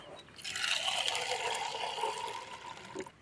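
Water pours steadily over lentils soaking in a bowl, a continuous close splashing fill running about three seconds with no talk.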